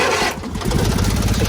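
A 1970s Haulmaster mini trike engine with straight header exhaust runs loud and close, its rough, rapid pulsing rumble steadying after a brief dip.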